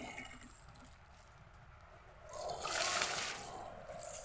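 Water splashes and sloshes in a container as tuway clams are set to soak, a steady low trickle that swells into a louder splashing burst midway, then settles, with no talking.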